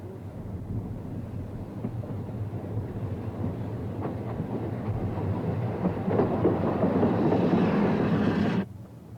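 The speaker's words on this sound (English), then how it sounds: "After filling up with water, Prince runs around her train for the return trip." The Ffestiniog Railway steam locomotive Prince runs around its train, rumbling steadily with rhythmic clatter, growing louder and heavier toward the end before cutting off abruptly.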